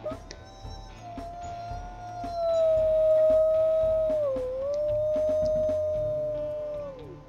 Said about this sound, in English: So she's also got a pretty clear howl.